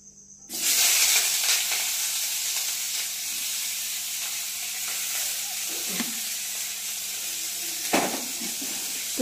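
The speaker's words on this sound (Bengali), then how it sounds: "তো পেঁয়াজটা একটু ভাজা ভাজা হোক, তারপর আর বাকি মশলাগুলো দেবো।" Sliced onion drops into hot oil in a wok and erupts into a loud, close sizzle that settles into a steady frying hiss, broken by a few scraping stirs near the end; no one speaks.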